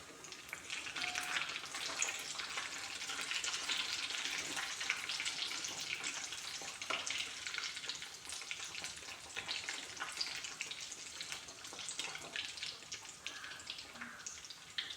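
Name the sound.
chicken rolls frying in hot oil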